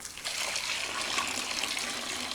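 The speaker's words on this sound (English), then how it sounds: "Let's add this water." Water poured in steadily, a soft continuous splashing trickle heard close and fairly quiet for a couple of seconds with no talk.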